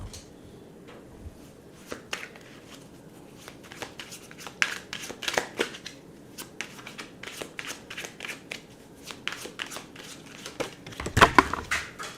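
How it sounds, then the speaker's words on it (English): Tarot cards being shuffled by hand, a series of soft riffling slaps and flicks at an irregular pace, ending in a louder burst of clattering cards near the end. "you cannot see the shuffling"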